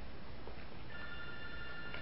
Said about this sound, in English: And then my phone rings, and it's my cousin.